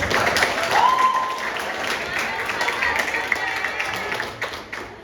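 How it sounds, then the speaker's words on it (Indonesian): Audience clapping at a provincial museum quiz competition final, a continuous wash of hands in a hall that fades slightly toward the end, with a brief voice rising over it early on. "boleh kita berikan tepuk tangan"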